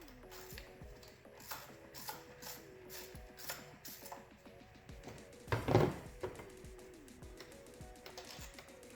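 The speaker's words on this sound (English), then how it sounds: "Go ahead and remove our 8mm bolt." Hand ratchet loosening a long 8mm bolt on a 2018-2025 Toyota Camry Hybrid 2.5L A25A-FXS engine, quiet rhythmic clicking in short bursts with a louder clatter midway.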